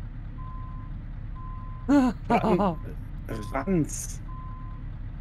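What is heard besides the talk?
truck reversing beeps, from video game Euro Truck Simulator 2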